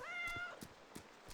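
A cat meows once, clear and close, in the adventure RPG game Kynseed, followed by a few soft, evenly spaced thumps.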